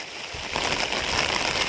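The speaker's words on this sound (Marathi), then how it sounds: "मोठी सर आली पावसाची आणि वारा आला जोरात" Heavy rain shower with strong wind in a Konkan village, a steady broadband wash of rain and gusts that swells after a moment and holds loud and close, with no talking.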